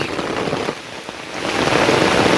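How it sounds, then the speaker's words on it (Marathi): Heavy rain pours down in a Konkan village near Sangameshwar, a dense steady roar of drops hitting surfaces that swells louder toward the end, with no talking. "जोराचा पाऊस आला"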